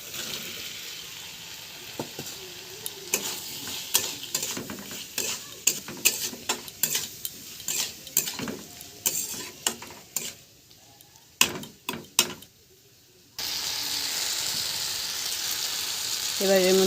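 Boiled vegetables are stirred into a frying spice paste in a pan: a sizzling bed under a run of sharp, irregular spoon scrapes and clinks, ending in a steady, louder hiss as the mix settles in.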